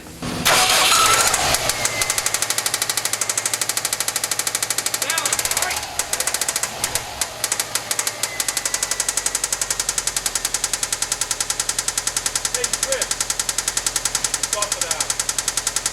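Subaru WRX wagon engine with a bad knock, starting up and then running with a steady, rapid metallic rhythmic tapping that stays loud and close throughout, with brief voices early on.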